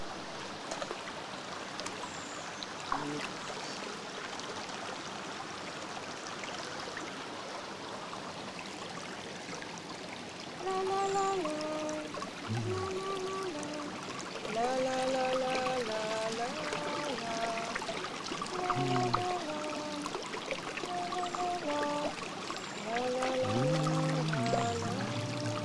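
Water is poured into a flowing mountain stream, a steady rushing trickle that grows louder partway through, with bird calls above it and no talking.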